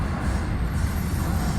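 An FEC freight train pulled by two locomotives rolls past close by with a loud, continuous rumble and grinding wheel noise, steady and heavy throughout.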